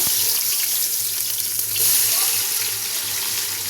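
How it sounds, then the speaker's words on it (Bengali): Onions hit hot oil in a home kitchen pan with a loud, steady sizzling hiss that continues throughout, close up and without pause. "এবার বন্ধুরা পেঁয়াজ দিয়ে দিচ্ছি, দেখতে দেখো তেল গরম হয়ে গেছে"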